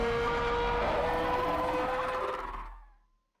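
A designed alien dragon roar built from dog toy squeaks, dry without reverb: one sustained, gritty, dense roar with tonal streaks, loud and close, fading out abruptly after about three seconds.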